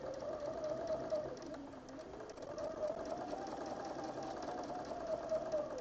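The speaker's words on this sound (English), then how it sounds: "Okay, I'm going to stop here, reverse so I can lock my stitch and cut." A machine stitches embroidery in a continuous fast mechanical whir with a steady rhythmic hum, close and moderately loud, briefly slowing near the middle, with no talking.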